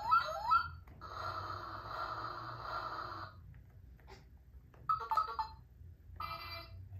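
The buttons on a Batman baby activity walker toy trigger a series of different electronic sound effects, including a ringtone-like warble, a sustained chime and several short bursts, all close and fairly quiet, with no talking.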